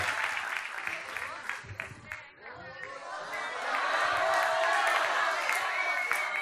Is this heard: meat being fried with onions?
no